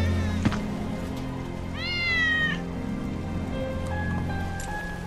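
A cat meows in Final Fantasy VII Remake: one clear, rising-and-falling meow, moderately near, over a steady ambient background with faint rain-like patter and a few soft clicks, no talking.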